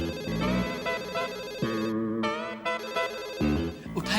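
Electronic phone ring tone with a melodic, buzzy tune playing continuously, fairly loud and distorted, with no talking.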